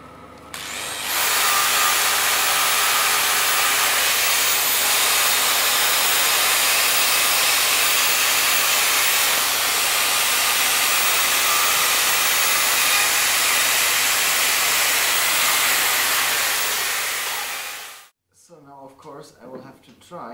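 A torch roars with a loud, steady hiss as it heats a forged steel flower bottle opener, running continuously for about seventeen seconds before cutting off abruptly, followed by faint clinks.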